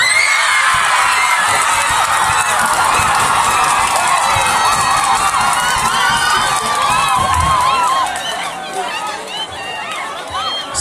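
Loud crowd cheering with whoops, shouts and clapping breaks out at the vocal group contest results announcement during an Easter camp, continuous for about eight seconds before easing slightly.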